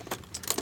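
Keys for a new Schlage deadbolt and door handle lock set jangle in a couple of quick, close metallic bursts as they are lifted out of the packaging.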